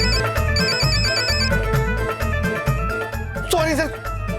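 A mobile phone that should have been on silent rings with a repeating electronic tune, steady and fairly loud, while a voice talks over it.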